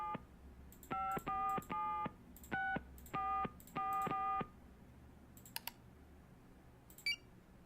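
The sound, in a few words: telephone number being dialed in a Nancy Drew video game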